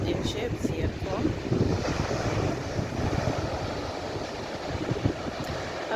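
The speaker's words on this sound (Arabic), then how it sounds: "غنخليكم مع الصوت ديال الريح اللي كاين هنا والصوت ديال المواج ديال البحر." Strong wind buffets the microphone over the roar of sea waves at Lalla Fatna beach, a continuous loud wash of surf with no breaks and no voices.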